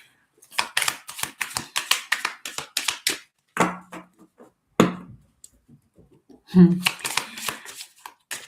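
Animal oracle cards being shuffled and picked, with rapid riffling flicks in a quick burst, then scattered single card snaps, close up, with a voice speaking briefly in places.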